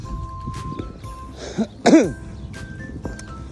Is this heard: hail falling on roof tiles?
no